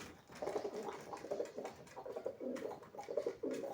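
Many pigeons in a loft or coop cooing close by, overlapping low throaty rolling coos repeating in a steady rhythm, with no talking.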